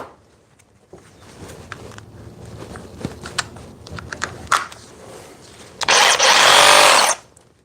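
A DeWalt DCS389 60V reciprocating saw on a nine amp-hour battery with a brand-new blade bursts into a loud, harsh cutting roar for about a second near the end, after quiet handling clicks and taps.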